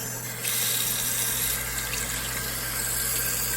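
Warm water gushes steadily from a tap while an oil painting brush is washed, a loud, constant rush with no voices.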